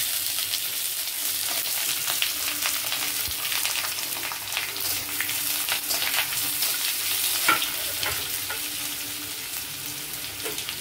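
Sliced onions hitting hot oil with bay leaf and dried chilli for mutton chusta, a loud continuous sizzle with scraping stirs of a spatula across the pan, a sharper clack near the end.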